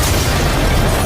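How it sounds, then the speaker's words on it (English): A railgun fires and an explosion follows in the video game Just Cause 4, heard as a short, loud, sustained roaring blast. "Right now we're using the railgun, one of the many new weapons in the game."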